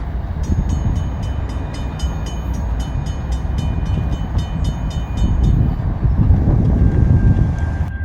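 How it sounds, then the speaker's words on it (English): A Norfolk Southern freight train rolls past in Columbia, South Carolina, a loud steady rumble of rail cars with rhythmic clanking and a high squeal near the end, heard nearby without talk. "There you guys have NS 28T here at Columbia, South Carolina."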